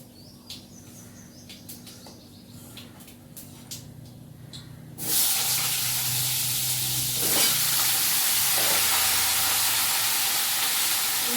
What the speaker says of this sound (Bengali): একটু ঝিঙে পোস্তটা বসিয়ে নিচ্ছি।